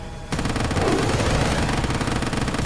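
Airstrike and rapid gunfire in the video game Quarantine Zone erupt suddenly after a brief lull, a loud sustained burst of automatic shots and blasts that continues to the end.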